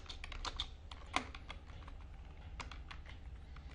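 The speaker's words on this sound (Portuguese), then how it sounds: "eu posso digitar aqui" Quick, close key clicks come from someone typing text into an Excel spreadsheet on a computer keyboard, an uneven patter with one louder tap and no voices.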